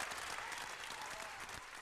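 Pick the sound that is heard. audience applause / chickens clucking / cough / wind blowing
audience applause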